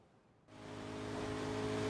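Bugatti Veyron SS in Forza Horizon 3 pulling away from rest, a sudden engine roar that kicks in after a short quiet moment and builds into a strong sustained whine.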